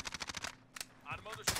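Rapid bursts of automatic gunfire in the video game Call of Duty Warzone. A quick string of close shots, then a pause and a few more scattered shots, with players' voices in between.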